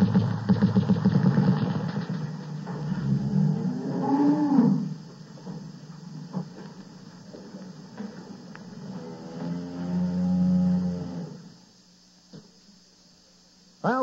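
A radio turkey shoot contest plays barnyard animal sounds, with loud, drawn-out cow moos and lowing calls at close range, separated by short pauses under a low engine-like hum.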